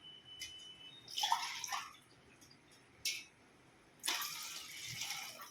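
Water poured into a pot of sweetcorn kheer, coming in short splashing bursts with brief pauses, the last pour longer and steadier, close by.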